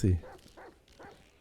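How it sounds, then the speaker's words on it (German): Dogs barking in the video game GTA 5, a few short barks spread through the clip, a loud one at the start and fainter ones after, moderately close. "Jetzt kommen die Hunde."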